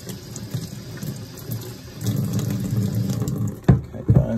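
Steady running water from a tap, with sponge splashing and a couple of sharper clattering knocks near the end as an antique rusty metal knife is rinsed.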